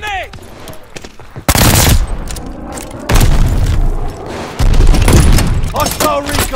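Call of Duty Vanguard gameplay with a Mauser C96 machine pistol: loud, close booming blasts from a grenade explosion and bursts of gunfire land in three heavy waves, with in-game voices around them.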